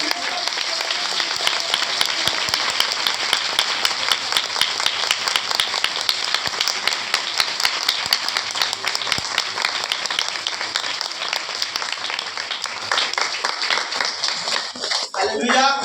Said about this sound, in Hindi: आइए हम जोर से ताली बजा कर